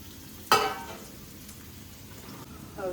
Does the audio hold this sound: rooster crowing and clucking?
no